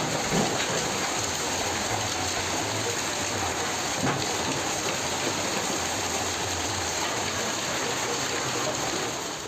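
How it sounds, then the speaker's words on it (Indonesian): A hailstorm with strong wind batters Kudus, Central Java, on a Saturday afternoon: a dense, steady roar of pelting precipitation on surfaces, continuous and loud with no voices. "situasi saat hujan es disertai angin kencang menerjang Kabupaten Kudus, Jawa Tengah Sabtu sore"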